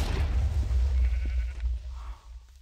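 A sheep in the video game Minecraft gives a bleat over a heavy, steady low rumble of game background noise, the bleat fairly faint, with no talk over it.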